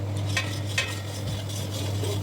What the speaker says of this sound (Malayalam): പൊടികൾ നന്നായിട്ട് മൂത്ത് വരുമ്പോൾ ആവശ്യത്തിനുള്ള ഉപ്പും കൂടെ ചേർക്കുക.